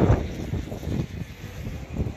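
Strong wind gusting on the seafront at Scheveningen, a steady roaring buffet across the microphone that surges and eases in uneven waves, with no voices.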